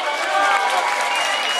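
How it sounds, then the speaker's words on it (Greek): An audience at a Greek travel show event claps in dense, steady applause, a brief, loud wash of hands without speech. "Θέλω το πιο θερμό σας χειροκρότημα"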